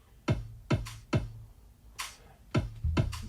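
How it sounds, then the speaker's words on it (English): A drum machine pairs a deep kick drum with a crisp shaker in a steady groove, the thumping kicks and bright shaker hits alternating closely and clearly with no voices. "part of the sound is like a bass drum sound and the other part is a shaker sound"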